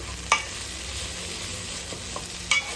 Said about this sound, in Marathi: आता हे सगळे मसाले आपल्याला परतून घ्यायचे